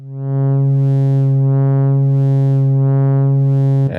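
A loud, sustained synthesizer tone from a Eurorack waveshaper module with distortion, rich buzzy harmonics, its upper overtones sweeping up and down in slow regular cycles before cutting off.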